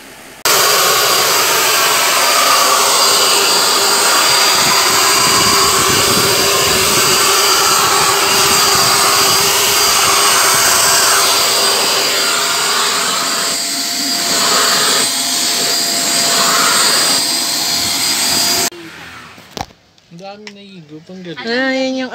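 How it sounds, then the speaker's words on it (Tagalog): A household vacuum cleaner sucks up dust and hair with a loud, steady whine and roar that runs continuously for about eighteen seconds, then cuts off abruptly, leaving a short stretch of quieter room sound with a voice. "Maganda yung nabili namin vacuum na to"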